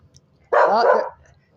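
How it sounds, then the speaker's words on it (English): A single dog bark rings out close and loud, lasting about half a second, with a faint low hum beneath before and after. "there's my dog that barks all the time and is always fighting"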